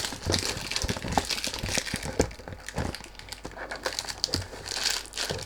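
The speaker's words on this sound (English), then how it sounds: "Sorry about the noise when you do unboxing" Packaging on a Sapil perfume box crinkles and rustles continuously during unboxing, close and fairly quiet, with sharp crackling bursts and no speech.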